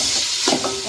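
Cabbage, onion and noodle vegetables stirred in a hot pan, a close sizzle with a brief scrape of the spoon midway.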